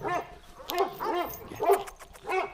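A Kangal dog, newly arrived somewhere, barks in a series of about five rhythmic, close yelping barks with whimpering tones between them, loud and clear with no talk over them.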